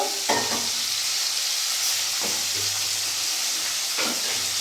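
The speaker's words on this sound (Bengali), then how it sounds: "মাছগুলো ততক্ষণ ভাজা হোক" Fish frying in a pan, with a constant close hiss of oil and a few brief bursts of crackle and stirring scrapes over the steady sizzle, with no voices.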